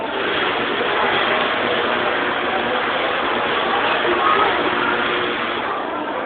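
A Tesla coil discharges in a steady, loud crackling buzz, a dense continuous sizzle of electrical arcs with no pauses, heard up close at an observatory demonstration.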